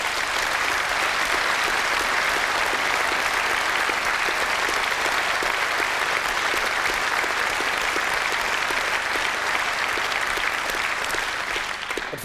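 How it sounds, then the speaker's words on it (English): A studio audience at a London mayoral candidates' debate gives a long, steady round of applause that stays dense and even throughout with no speech over it. "A big round of applause for them."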